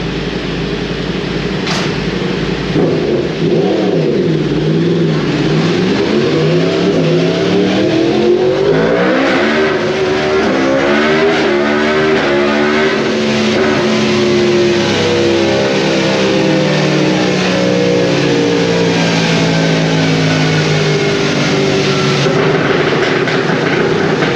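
2022 Yamaha R1M motorcycle fitted with an Akrapovic exhaust revving hard on a dyno, a loud sustained engine howl sweeping up through the revs and holding high before easing off.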